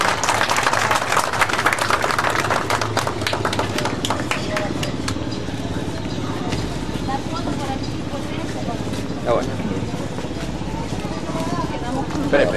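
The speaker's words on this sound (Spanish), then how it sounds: "Un aplauso pues para todos ustedes." Applause and scattered clapping from participants right after a church blessing at a community event in Santa Ana, dense at first and thinning out, with voices and some background rumble mixed in.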